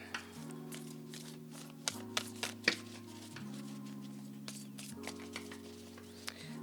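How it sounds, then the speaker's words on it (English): Tarot cards that are a little hard to shuffle are shuffled softly with light patters and flicks, faint and close, over a steady background hum of music. "They're a little hard to shuffle."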